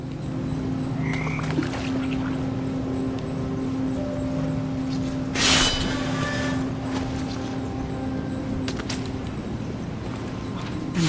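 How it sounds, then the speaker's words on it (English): Toads in the What Remains of Edith Finch video game, a low continuous croaking drone with steady tones underneath and a brief louder rustle midway, with no voices. "And toads."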